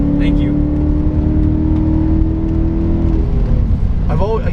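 A modified BMW E34 540i V8 pulls hard, its engine droning loud and close inside the cabin with a steady rising tone, and a brief voice breaks in near the end.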